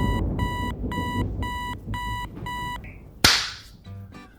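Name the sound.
alarm clock ringing then slapped off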